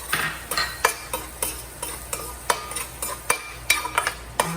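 Garlic frying in a pan for bulalo steak, with soft sizzling under a string of regular light clicks and scrapes of a utensil stirring against the pan, close up, no talking.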